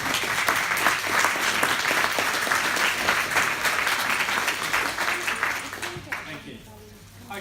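An audience gives a round of applause for the first two speakers, full, sustained clapping with some voices that carries strongly for about six seconds, then fades away.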